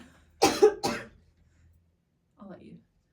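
Two quick, forceful coughs close to the mic, followed after a pause by a softer throat-clearing rasp.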